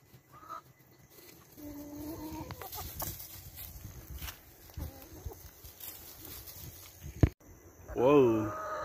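Chickens cluck on and off nearby, with people talking over them and a sharp knock near the end.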